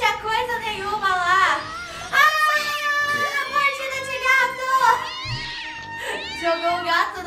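A cat in the video game Scary Teacher 3D meows again and again, with loud, drawn-out and rising caterwauls close by, some of them overlapping in quick succession.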